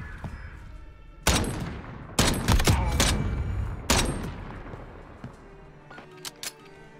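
Gunfire in Call of Duty Modern Warfare, several sharp bursts of rapid shots in quick clusters, loud and close, separated by brief lulls, with no one talking over them.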